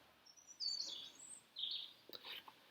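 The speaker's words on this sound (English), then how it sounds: "You probably are hearing in the background, besides the birds chittering, some rain falling." Birds chirp and tweet outdoors on a rainy day in a few bright, quick bursts over a faint, steady background hiss, quiet and fairly distant.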